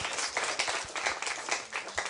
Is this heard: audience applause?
yes